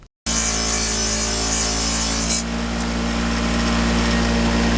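A wire wheel scratches across a metal part, probably an old stop-sign blank, with a loud, steady grinding drone over a motor hum that starts abruptly and then runs without a break.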